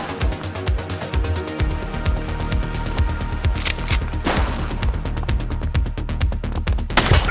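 Rapid gunfire in the police game The Precinct, a dense run of sharp, evenly spaced shots from automatic weapons, loud and continuous with a brief blast partway through and no voices.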